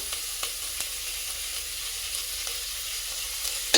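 Chopped greens tossed into hot oil in a frying pan for sabbakki pulav, a steady close sizzle with a few light scraping stirs and clicks and no voices.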